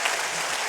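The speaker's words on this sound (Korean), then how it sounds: "박수 한번 해주세요" Brief burst of audience applause for a university president at a talk, a dense even wash of clapping that fills the moment without a voice over it.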